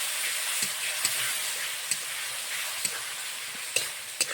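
Ground ginger, cumin and cardamom paste with turmeric and salt frying in a pan, a bright continuous sizzle with sharp occasional clicks and taps of a spatula.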